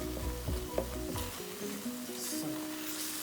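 Crayfish being stirred into egusi soup in a Saladmaster pot, with a steady sizzle and faint scraping of the spoon running continuously at close range.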